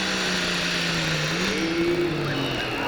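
A 12,000 lb pro pulling tractor at a 1998 Taylorville, Illinois pull roars loudly as its engine revs up, pitch climbing steadily through a sustained, close, unbroken blast.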